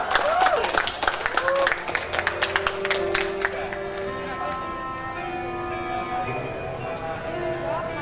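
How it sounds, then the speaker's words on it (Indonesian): Audience applause after a poetry reading at an evening literary event: brisk clapping fills the first few seconds, then thins out and gives way to sustained ringing tones. "Boleh kita berikan tepuk tangan sekali lagi untuk pembacaan puisi yang sudah dibacakan"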